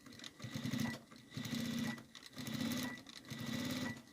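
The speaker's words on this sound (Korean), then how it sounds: "뒤로 대박음질 하시고 밀어주면서 밀어주고 한 바퀴 빙 돌려주죠" A sewing machine stitches fabric for a kitchen oven mitt, running in four steady bursts of rapid mechanical whirring with short pauses between them, close and fairly loud with no talk.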